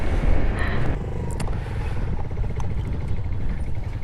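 A motorcycle engine runs nearby with a steady low rumble that rises slightly and then settles, accompanied by faint clicks and noise but no talking.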